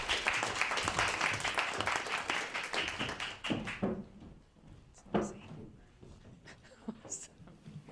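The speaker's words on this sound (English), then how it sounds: "So another round of applause, please" A forum audience claps for about four seconds, dense applause that then fades into scattered claps, thumps and chatter.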